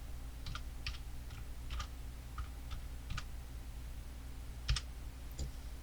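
Light computer keyboard typing in scattered bursts of clicks, entering text in a video editing program, over a quiet, humming room, with a slightly louder keystroke near the end.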